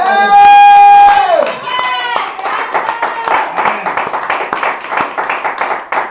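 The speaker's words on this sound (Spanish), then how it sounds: "Pueden darle un aplauso al Señor Jesucristo." Congregation applause in a church service, after a loud sung or shouted exclamation the room breaks into close, crisp rhythmic clapping from many hands that pulses steadily to the end.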